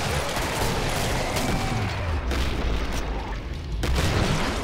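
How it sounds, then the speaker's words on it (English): Game grenades explode in a steady chaotic barrage amid gunfire, giving a dense, rolling rumble of booms and pops with no voices over it. "Oh, there's a number of grenades"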